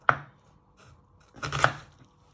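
Knife dicing a peeled, sliced onion on a cutting board: two crisp close chops with a soft scrape between, no voices.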